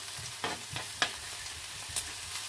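Onions and garlic fry quietly in a pan, a soft steady sizzle broken by a few brief stirring clinks and scrapes, with no talking.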